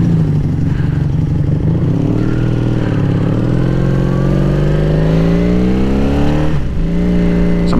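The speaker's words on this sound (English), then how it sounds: "So mine is much louder with the Vance and Hines." A Honda VF500F motorcycle with a Vance and Hines exhaust revs loudly and up close, its engine note climbing steadily before dropping back near the end.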